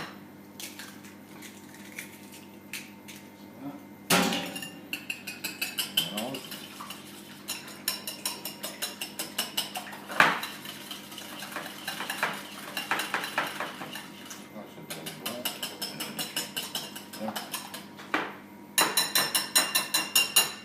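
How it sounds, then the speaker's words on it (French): An egg cracked and beaten for breading chicken in a kitchen: sharp knocks, then rapid clinking of a utensil whisking in a bowl, close and fairly loud, with some quiet talk in between. "Là on va casser un œuf."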